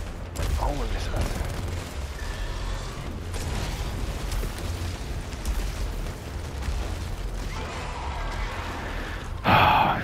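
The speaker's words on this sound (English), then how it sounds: "Okay, now big laser beam. And homing missiles, and big laser beam again." Boss in Returnal firing big laser beams and homing missiles, a dense, continuous roar of blasts and bursts running throughout with a loud burst near the end, heard under speech.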